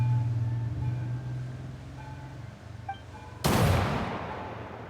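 A single loud gunshot blasts out in a Genshin Impact cutscene, breaking over a low hum and a faint background tone and leaving a broad rumbling tail; close and sudden, with no talk.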